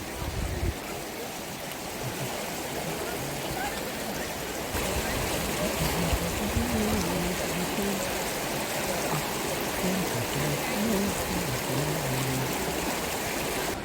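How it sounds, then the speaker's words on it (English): An elephant at Pinnawala in Sri Lanka sprays water from its trunk, a steady rushing splash like a stream that grows louder midway and continues to the end, with faint voices in the background. "This sweet elephant is giving me a shower with his trunk."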